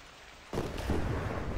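Steady rain falls in a video game world, a dense broadband hiss that starts abruptly after a near-silent moment and then holds at an even, fairly loud level to the end, with no voices.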